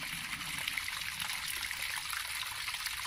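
Waterfall stream on Havelock Island, a steady close wash of gurgling, trickling water running continuously without pause and with no voices.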